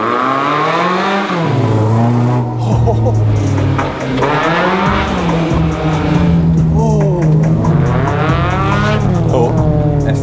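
A Mini with a swapped-in Honda VTEC engine revs hard, climbing and dropping through repeated loud, high-pitched sweeps as it accelerates, very close, with a brief lull between bursts.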